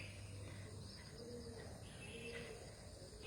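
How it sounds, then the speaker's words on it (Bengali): A pigeon coos faintly in the distance on an open university campus, soft repeated calls set against quiet outdoor ambience with no one talking. "কবুতরের ডাক শোনা যায়"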